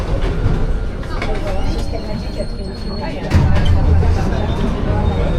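A Paris metro train, old rolling stock, rumbles along with a low, steady roar and rattling clatter, growing heavier partway through, with faint voices in the background.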